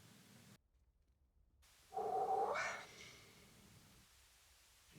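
A cat in a horror film lets out a single drawn-out, rising meow or yowl, fairly close and clear, against quiet low background noise.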